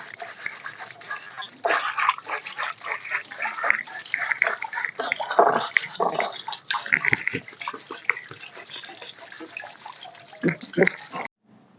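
A rusty kanom krok pan being rinsed with plain water, giving irregular splashing, sloshing and scrubbing sounds at close range, continuous for about eleven seconds before stopping abruptly.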